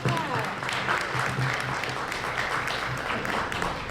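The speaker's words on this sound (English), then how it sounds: "Y'all can clap." A film festival panel audience in Chicago claps steadily, a dense crackle of many hands with a faint voice or two murmuring underneath, holding an even level throughout.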